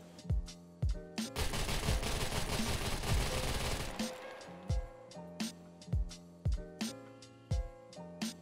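Handgun shots ring out in the survival game SCUM, first as a rapid, continuous volley of overlapping gunfire, then as a series of evenly spaced single loud shots with short gaps between them.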